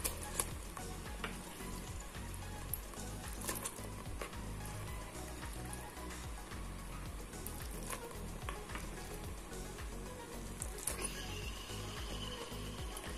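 Beef sizzling and frying in masala with curry leaves for koorkka beef varattiyathu, a steady close crackle with stirring scrapes throughout, no talk.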